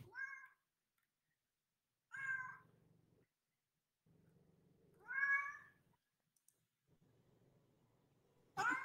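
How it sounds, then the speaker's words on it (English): A cat meowing insistently up close, four distinct drawn-out meows spaced a couple of seconds apart, with quiet murmuring in the gaps. "Hush, hush. I've got a cat."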